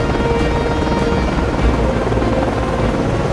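Helicopter launching from the deck of the cruiser USS Valley Forge (CG 50) in the naval game Cold Waters, a loud, steady rotor drone with dense engine whine filling the whole clip at close range.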